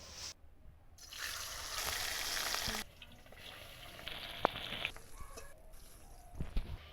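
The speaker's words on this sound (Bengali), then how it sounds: "আর এই যে মাছের মাথাটাতে আমার মা কিন্তু লবণ হলুদ মাখিয়ে রেখেছে, এখন এটা ভেজে নিলেই হয়ে যাবে।" Rohu fish head rubbed with salt and turmeric frying in hot oil, a patchy sizzle that swells in bursts and fades between them, with a few sharp pops and clatters nearby and no voices.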